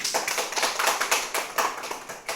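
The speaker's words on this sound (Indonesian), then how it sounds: "Beri tepuk tangan pada kelompok 1" Classroom applause for a group of pupils, a busy patter of many hands clapping at close range, steady and fairly loud with little talk across the short burst.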